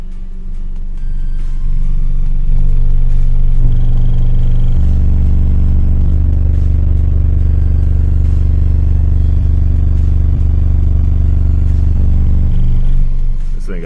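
Deep 24 Hz bass from two Skar Audio EVL 12-inch D4 subwoofers, powered by a Hifonics amplifier at 1 ohm, shakes a truck in a loud, sustained low rumble lasting about ten seconds, with rattling panels.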